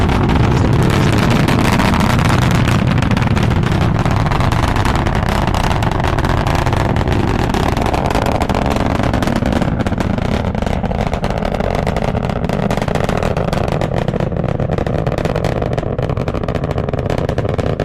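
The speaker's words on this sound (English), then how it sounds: "Had a good liftoff. Vehicles now pushing down range." Falcon 9 rocket lifting off on the TURKSAT 5B mission, a continuous loud, broad rumbling roar that holds steady throughout with gusty low-end buffeting and no voices.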